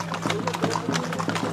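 Horses carrying riders at a family birthday party, steady clip-clop of hooves at a brisk walking pace over a low hum, with faint chatter in the background.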